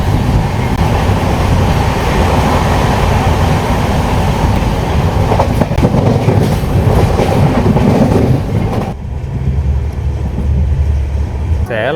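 A Salem Superfast LHB train runs at speed, a loud, steady roar of wheels and carriage rumble with faint rhythmic clatter, heard from inside the moving train without a break.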